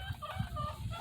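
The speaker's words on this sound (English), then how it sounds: "you can hear the chickens in the background," Chickens cluck in the background of a home vegetable garden, soft low bursts repeating irregularly through a steady outdoor hiss.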